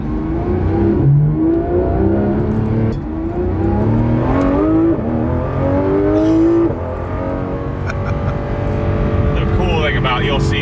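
With its exhaust open, a Porsche 911 GT3 RS engine climbs and falls in pitch as it accelerates, heard from inside the car beneath ongoing conversation.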